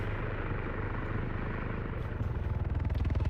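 A helicopter flies in a video game, its rotor drone loud and close, with the blade thump turning into a fast, pulsing chop near the end.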